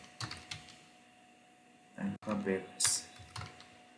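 Python code is tapped out on a computer keyboard in short, irregular bursts of close, clicky keystrokes separated by brief pauses.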